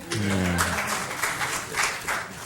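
Applause from the audience at a Boynton Beach city commission meeting, a steady wash of clapping that follows a brief stretch of voice at the start and carries on evenly in the room.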